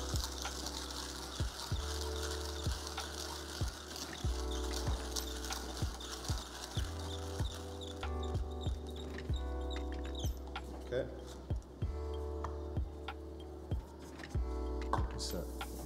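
Coffee beans are ground by hand in an Arco grinder, giving a steady run of sharp ratcheting clicks and crunches in an even cranking rhythm, close up over a low background hum.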